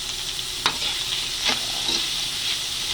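Sliced hotdog being stirred in a hot cooking pot for soup, a steady sizzle with a few distinct scraping stirs of the utensil, close and clear with no talk.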